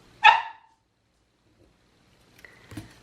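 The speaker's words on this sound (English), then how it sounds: "My daughter's dog just heard our Ring doorbell go off, so he is on high alert." A dog lets out one sharp bark, then after a long silence a couple of softer, fainter barks or yips follow, the dog on high alert after a Ring doorbell went off.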